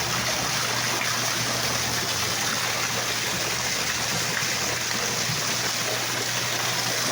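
A natural water stream at a resort near Digos City flows in a steady, loud, unbroken rush of running water, close and continuous with no voices.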